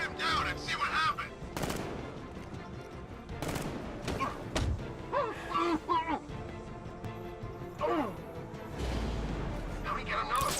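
Gunfire in the PC game Batman Arkham Knight: scattered sharp shots and thuds, some in quick bursts, mixed with voices and game sounds at moderate level.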